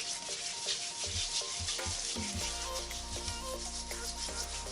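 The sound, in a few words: rubbing a homemade salt body scrub on a wet hand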